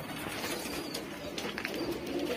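Domestic flying pigeons of the Saharanpuri and Allahabadi breeds coo softly in a loft, a low rolling murmur that swells slightly toward the end against steady background noise.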